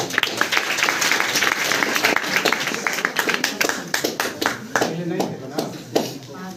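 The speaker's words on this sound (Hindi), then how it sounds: "ताली बजाइए।" Audience applauding at a coaching-class prize distribution ceremony, a steady dense burst of many hands clapping that stays loud throughout, then thins into scattered claps near the end, with some voices mixed in.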